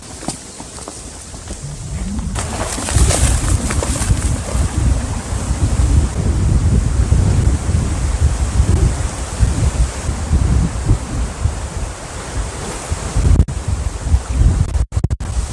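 Strong wind gusts across a lake shore during a pike fishing trip, a loud continuous roar with buffeting on the microphone and the wash of waves beneath, steady throughout.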